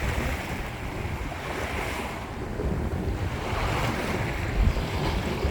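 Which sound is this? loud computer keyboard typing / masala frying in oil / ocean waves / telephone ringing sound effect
ocean waves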